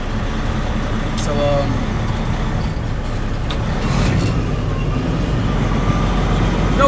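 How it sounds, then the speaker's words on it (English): Semi truck with a 10-speed manual transmission rolling through traffic while the driver shifts without the clutch, a steady low engine and road rumble throughout, close and constant under someone talking. "no clutch, you know, obviously when you're shifting, you float around here"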